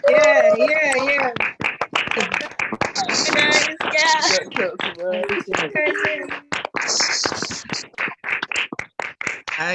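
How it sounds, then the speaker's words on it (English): Participants on an online call clap for young people, scattered uneven claps and taps from several unmuted microphones, mixed with overlapping voices and cheering throughout. "put your hands together, and give these young people a big round of applause"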